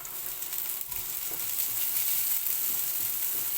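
Shrimp frying with golden brown garlic in a pan, a steady close sizzle with faint stirring taps, no voices.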